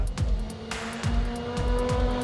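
BTCC touring cars racing at close quarters during a collision, with engines roaring and revving through gear changes and a sustained tyre-scrubbing hiss as a car slides sideways.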